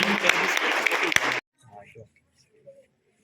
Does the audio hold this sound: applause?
yes